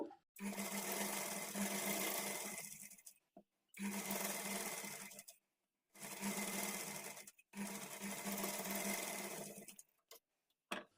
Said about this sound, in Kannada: ಈಗ ಇದನ್ನು ಸ್ಲೀವ್ಸ್ ಕಡೆಗೆ ತಿರುಗಿಸ್ಕೊಂಡು ಇದ್ರ ಮೇಲೆ ಡಬಲ್ ಸ್ಟಿಚ್ ಹಾಕ್ಕೊಳ್ಬೇಕು